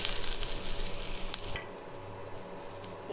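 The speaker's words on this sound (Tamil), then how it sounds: "இப்போது வெங்காயம் நல்லாவே இந்த அளவுக்கு வதங்கி வந்திருக்கு பாருங்கள்." Sliced onions for Mughlai mutton gravy sauté over a medium flame with a bright, close sizzle that drops to a softer, quieter simmer about halfway through.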